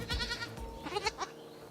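Goats bleating on a goat farm, several wavering cries overlapping and following one another at close range over a steady outdoor background, with no talk.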